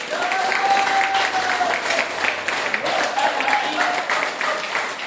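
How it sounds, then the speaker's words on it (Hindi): A room of people gives hearty, sustained applause to welcome newcomers, steady and fairly loud throughout, with a voice faintly audible under the clapping. "जोरदार तालियां के साथ इनका स्वागत करेंगे"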